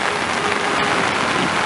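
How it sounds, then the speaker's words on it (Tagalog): Heavy rain pours down during a rainy-season storm, a dense, loud, continuous hiss of water striking surfaces close by, with no voices. "Ayan sir, lalo na malakas ang ulan, oh."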